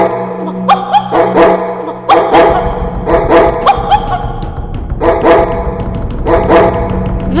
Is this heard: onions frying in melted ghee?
no